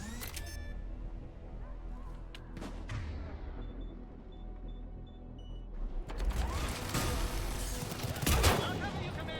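Turret gunfire in the sci-fi shooter Mass Effect 3, a sharp burst at the start and dense, louder rattling fire in the later part, mixed with mechanical clanks and game voices.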